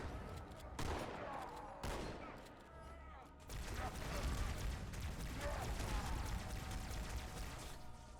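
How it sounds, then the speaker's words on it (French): Rapid gunfire blasts away at a boss in the shooter game Halo 2, with dense, continuous bursts and booming impacts layered with game effects while a player talks over it. "je viens de te mettre 15 balles dans la tête"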